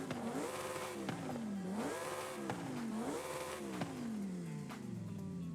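A Lamborghini Huracan Evo with its stock exhaust in the Forza Horizon 5 racing game revs repeatedly, rising and falling in pitch several times, loud and continuous with no talk.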